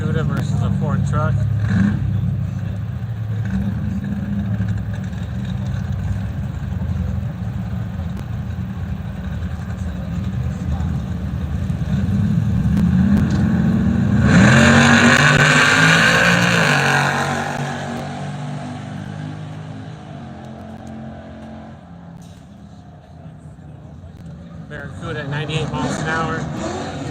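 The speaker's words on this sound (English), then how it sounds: "Vintage Barracuda versus a Ford truck." A vintage Plymouth Barracuda racing a Ford truck, engines idling then swelling into a loud accelerating roar midway before fading, with steady background crowd noise.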